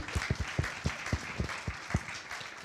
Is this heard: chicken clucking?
no